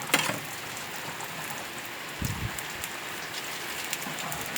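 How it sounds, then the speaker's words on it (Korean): Heavy rain falls outdoors during a typhoon, a steady dense hiss with a brief heavier burst midway, no voices. "비가 오늘 엄청 많이 왔습니다"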